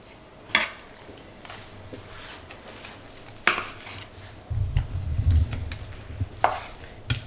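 A knife slicing through roast turkey breast, a few soft scraping cuts and light taps on a board at a slow, spaced pace, close by and fairly quiet, with a brief low rumble in between.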